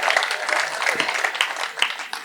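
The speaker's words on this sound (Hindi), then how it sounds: "ताली बजाइए महिलाओं के लिए।" Crowd at a Hindi poetry stage show clapping for women, a steady patter of many hands filling the hall with sharp individual claps standing out.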